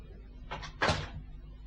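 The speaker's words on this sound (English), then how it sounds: "Close the door." Indoor door pulled shut in an office: a soft latch click followed by a firmer closing thud, close by, in a quiet room.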